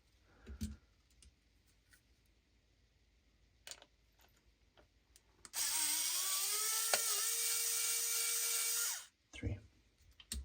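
A power screwdriver whirs steadily for about three seconds, loud and close, while backing screws out of a Claw8ai joystick controller, with a few soft handling clicks before and after.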